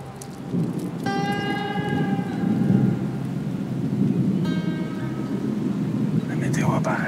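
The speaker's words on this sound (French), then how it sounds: "On est rendu en plein milieu du orage, des éclairs, du tonnerre." Thunder rolling through a heavy thunderstorm with steady rain in the Quebec woods, a continuous loud rumble and downpour with two brief higher tones cutting in.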